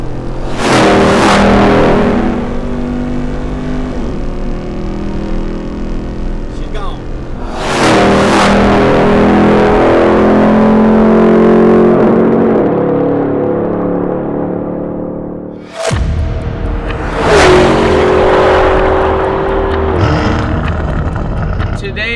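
A Hennessey performance car accelerating hard in a drag race: three loud, close engine runs, each a roaring rev that climbs through the gears and fades, separated by brief shifts, with no talking.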